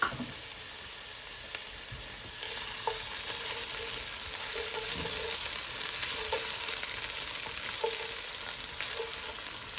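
Half a white onion frying in vegetable oil gives a steady, close sizzle that grows louder after a couple of seconds, with faint occasional clicks and no talking.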